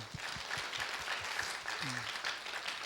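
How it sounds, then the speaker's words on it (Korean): A small church youth group gives a faint, soft round of applause, heard from a distance, with a low voice briefly speaking underneath. "우리 언니들 박수 한번 해줄까요?"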